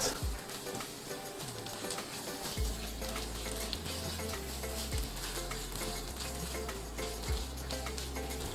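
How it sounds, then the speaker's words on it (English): Mixed seafood stir-fries in a hot pan with aromatics, giving a steady loud sizzle with scraping and tossing noises from a utensil throughout. "Just add your seafood, and then we're gonna mix this a little bit."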